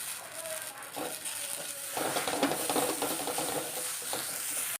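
Dried prawns go into a hot pan with chili, coriander and turmeric powder, producing a steady close sizzle and hiss with stirring scrapes that swell slightly midway and hold to the end.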